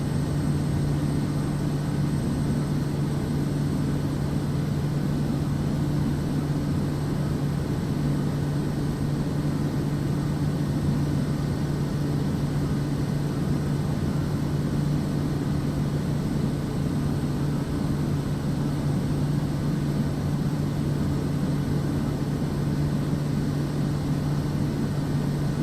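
Bush plane engine droning on landing approach in Microsoft Flight Simulator 2024, a steady low hum with a constant tone, unchanging and moderately loud throughout.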